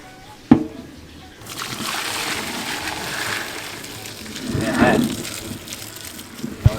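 Water splashing and sloshing as cooked spaghetti noodles are strained in a home kitchen, a sharp knock near the start, then a steady gushing pour with a louder splash burst toward the end, with talk in the background.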